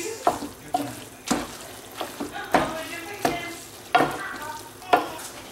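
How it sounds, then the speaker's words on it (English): Hot fettuccine is stirred into a creamy tomato and lobster sauce in a pan, with about eight close, rhythmic scraping strokes and a soft wet sizzle between them, no voices. "Give that a stir."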